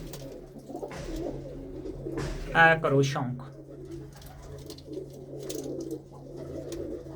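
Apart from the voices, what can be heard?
pigeons cooing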